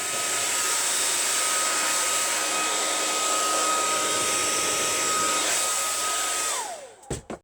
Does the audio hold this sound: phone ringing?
no